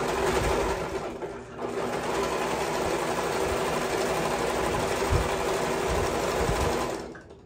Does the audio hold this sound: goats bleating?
no